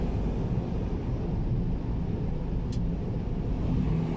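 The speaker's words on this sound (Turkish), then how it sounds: "Motor freniyle yavaşlamayı tercih ediyorum." A car slows on a snowy road using engine braking, giving a steady low rumble of engine and road noise that fills the whole stretch with no clear change in pitch.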